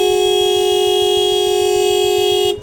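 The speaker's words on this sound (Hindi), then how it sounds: "इस बंदे को मैं हॉर्न भी मार रहा हूँ कि रुक जा भाई" A long, steady motorcycle horn blast with a harsh tonal buzz, held continuously for over two seconds before cutting off, against a low rumbling engine on a mountain road.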